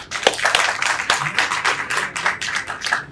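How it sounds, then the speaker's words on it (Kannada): An audience at a film audio launch event claps for the choreographer, giving fairly close, lively applause with distinct individual claps rising and falling in uneven bursts. "ಅವ್ರಿಗೊಂದು ದೊಡ್ಡ ಚಪ್ಪಾಳೆ ಪ್ಲೀಸ್."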